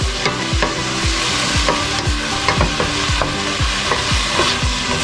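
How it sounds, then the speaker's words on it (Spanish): Shrimp frying in a pan with paprika, stirred with repeated utensil scrapes and knocks in a steady rhythm over a constant close sizzle. "Ahí lo dejamos freír un rato"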